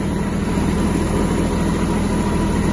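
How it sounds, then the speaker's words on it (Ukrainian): Kubota GB-180 mini tractor engine while driving, a continuous loud low-pitched diesel drone, steady and close throughout with no voices. "Знімаю трактор з тормозу і рухаюсь."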